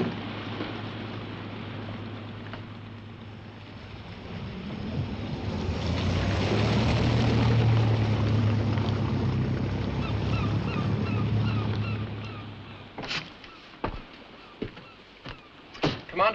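A boat engine hums steadily on a test run back into harbour, its low drone swelling louder midway before fading, followed by sharp knocks and clunks near the end.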